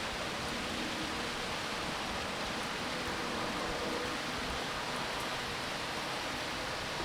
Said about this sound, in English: I love rain as an ambient noise.